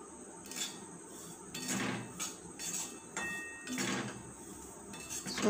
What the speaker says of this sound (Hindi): मेरा घी गर्म हो गया है तो इस पर मैं सूजी डाल दे रही हूँ और इसको अच्छे से मैं भून ले लूँगी